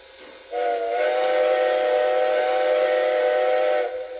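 A model steam locomotive whistle sounds in one sustained blast of about three seconds, its layered tones bending slightly as it quills, close and clear with no voices.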